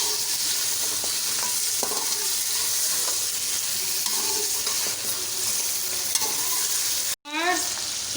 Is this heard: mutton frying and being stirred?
yes